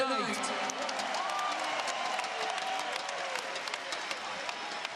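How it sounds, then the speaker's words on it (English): An arena crowd applauds and cheers for two fighters in a RAF main event, steady clapping running throughout under an announcer's voice. "please give these two warriors a big round of applause in your main event tonight"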